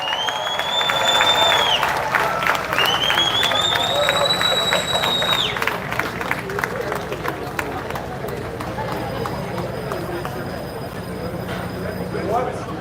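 An outdoor crowd in Woodford Square cheers and applauds for the Queen of Steelpan at a World Steelpan Day event, a broad, continuous roar with rising whistle-like cheers early on, loud at first then settling into steady clapping.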